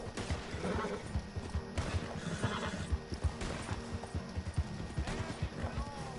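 A horse in the video game Red Dead Redemption 2 neighs while its hooves clip-clop in a steady running rhythm, with faint talk over the top.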